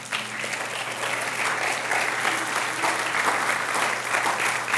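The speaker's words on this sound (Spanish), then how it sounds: "Le das un aplauso al Señor." Steady applause from a sizeable church congregation, dense clapping sustained throughout over a low electrical hum.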